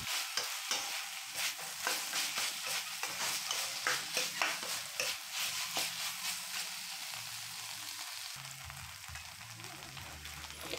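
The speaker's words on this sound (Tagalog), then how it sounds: "haluin lang natin yan para hindi masunog ang ilalim nito" Spoon scraping and stirring pork binagoongang in a sizzling pan, repeated rhythmic scrapes over a steady close fry, with no talk.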